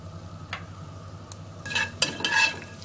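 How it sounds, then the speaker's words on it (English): Curry leaves dropped into hot oil with mustard and cumin seeds, a soft stir and clink at first, then several sharp crackling bursts of spluttering near the pan. "Now I'm going to add my curry leaves"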